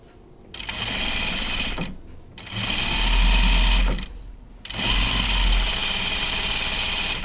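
A sewing machine stitches fabric for a jacket in three loud, steady bursts of rapid mechanical whirring and clatter, separated by short pauses, close up.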